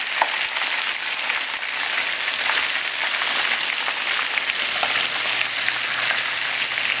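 Mushrooms fry steadily in a hot pan, a loud, dense and continuous sizzle with no voices over it.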